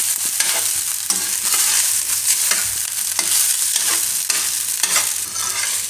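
Cheese broccoli fried rice is stirred steadily in a pan over a constant sizzle, with a spatula scraping and clicking against the metal every half second or so, close and fairly loud with no talking.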